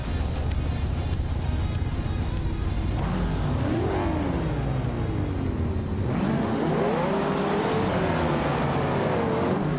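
Race cars in a video game roar off the start at Sentul International Circuit, engines revving loud and rising in pitch as several cars accelerate and pass in close succession.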